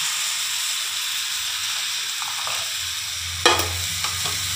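Melted jaggery poured into a hot frying pan and stirred, a steady sizzling hiss with scraping stir strokes and a few sharper clatters near the end.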